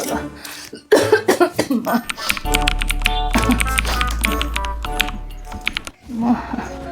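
A person coughs several times in short harsh bursts, close to the microphone, with tapping and rustling around the coughs.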